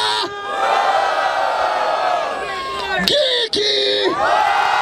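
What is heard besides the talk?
crowd cheering and shouting at freestyle rap battle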